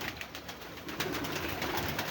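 Pigeons, including a malta-coloured one, coo softly amid steady outdoor background noise and the rustle of birds being handled, with no voices over them.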